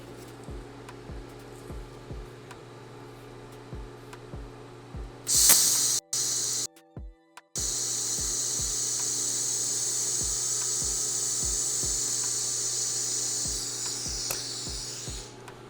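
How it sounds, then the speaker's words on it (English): Welding rails onto a Cetme C rifle receiver: a steady, loud hissing weld runs for several seconds after a sharp start with brief breaks, over a faint regular ticking hum, with no speech. "With that, we can start our welding here."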